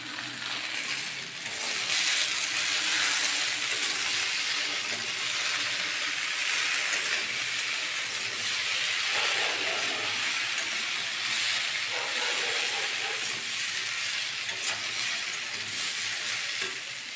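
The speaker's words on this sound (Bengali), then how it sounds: "আগে একটু সর্ষের তেল দিয়ে দিই, তারপরে 5 ফোড়ন, তারপরে দুটো শুকনো লঙ্কা দিয়ে আগে ফুলটা দেখছি ভাজা ভাজা করে নিই" Mustard oil with five-spice seeds and two dried chillies fries for a jujube pickle, making a loud, continuous close-up sizzle and hiss that holds steady throughout.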